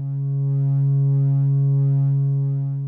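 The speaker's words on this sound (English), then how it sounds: "That's just a slight bending of the sine wave." Steady sine tone from a Pittsburgh Modular Double Helix Eurorack oscillator under gentle exponential FM, giving a faint bending in the pitch. It holds as one loud, continuous note with no talking.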